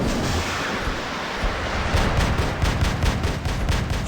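Rapid bursts of gunfire and heavy weapon blasts from the War Robots mech shooter game, a dense continuous barrage with repeated sharp shots toward the end, loud and without speech.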